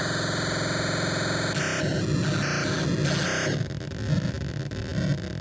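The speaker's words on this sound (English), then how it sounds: "This one sounds a lot like Asteroid, the video game, or other lo-fi 80s video games." AstroNoise Eurorack module putting out lo-fi, chaotic noise like 80s video games, a steady buzzing tone that shifts into crackling, glitchy bursts and rough static, moderately loud with no voices.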